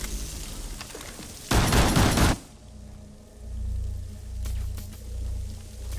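Suppressed pistol fire in a video game: a short, dense burst of muffled shots lasting under a second, loud against quiet background game ambience.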